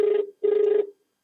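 A phone call's ringback tone, two buzzy bursts with a short gap, close and clear with nothing else heard.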